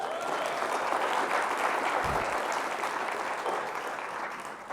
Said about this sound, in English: I'm glad you applauded